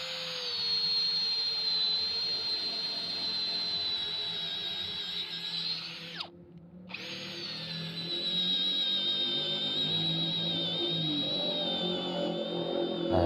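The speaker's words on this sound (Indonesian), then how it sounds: "Ini saya akan coba untuk mengebor lebarnya dari bahan kusen ini 12 cm bosku." A Hasston 16.8-volt brushless battery drill with a 10 mm auger bit bores through a 12 cm teak door frame in low gear, a steady high motor whine that stops briefly and then resumes under load.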